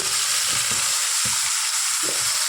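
Ground masala paste poured into hot oil with fried curry leaves sizzles in a steady, close hiss, with a few soft stirring knocks underneath.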